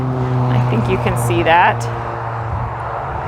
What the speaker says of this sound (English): Sorry about the traffic.